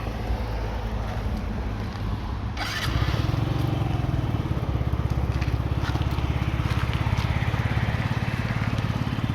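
A Yamaha Jog SA39 fuel-injected scooter engine starts up partway through and settles into a steady, close, buzzing idle with a rapid even putter.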